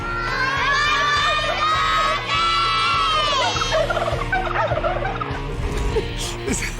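Several turkeys gobble loudly in warbling bursts, mixed with children shouting and cheering close by at a goodbye party for the turkeys.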